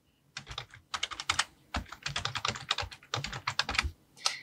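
Typing a project name on a computer keyboard while setting up editing software: several quick bursts of close, crisp keystrokes separated by short pauses, with no talking.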